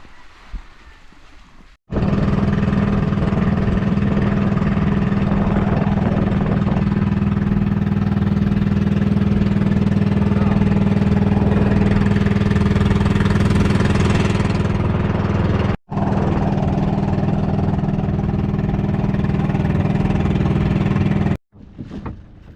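The engine of a small fishing boat, running again after its on-off switch was repaired, drones loud and steady at a low pitch, cutting out briefly twice, with no talk over it.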